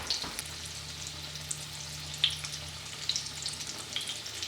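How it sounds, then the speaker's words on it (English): Green tomato slices frying in a pan, a soft, continuous sizzle with small crackling pops and a low steady hum under it, heard close with no talking. "let them cook until they get good and brown on one side"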